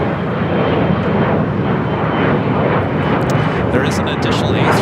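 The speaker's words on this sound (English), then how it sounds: "we'll add another A380 Super to that mix" Airbus A380 airliner at Los Angeles airport, a loud, broad, sustained engine roar close by, with faint voices or commentary mixed in.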